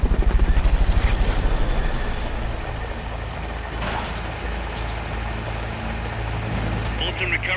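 Helicopter from the Metal Gear Solid Peace Walker video game, a loud steady rotor thump and engine drone that is strongest at the start and then settles into a continuous roar.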